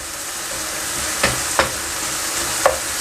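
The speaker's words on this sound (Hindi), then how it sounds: "इस चिकन को मैं अच्छी तरह ब्राउन कर लूँगा" Chicken pieces brown in a hot pan, a steady loud sizzle throughout with a few sharp stirring scrapes breaking through, and no voices.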